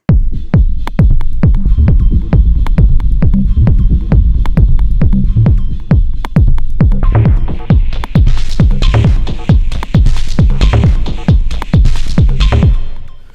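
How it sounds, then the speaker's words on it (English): Elektron Syntakt drum machine pattern with its effects block switched off, punchy unfiltered kicks and snares in a steady loud groove, with bright hi-hat and noise hits joining in the second half. "Now, if I turn the effects off, the effects block off, you'll actually hear it without the filter."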